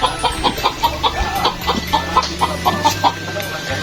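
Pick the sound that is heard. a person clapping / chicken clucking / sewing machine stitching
chicken clucking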